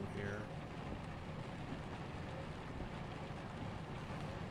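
Rain falling in American Truck Simulator, a steady, soft, even wash of rainfall with a low drone beneath it and no distinct events.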